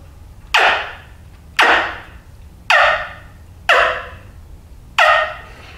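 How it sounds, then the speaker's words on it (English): Five sharp clucks spaced about a second apart, each a bright, piercing burst that fades quickly, played up close on a homemade hand-held wing bone turkey call. "but just some clucks."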